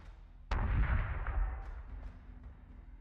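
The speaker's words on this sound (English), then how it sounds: "Missiles incoming!" Incoming missile fire in the space combat game Battlestar Galactica Deadlock, a single sharp, loud blast followed by a rumbling roar that slowly fades.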